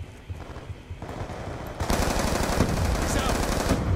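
Rapid automatic gunfire in Call of Duty Black Ops II multiplayer, scattered bursts at first, then a loud, sustained volley of shots from about two seconds on.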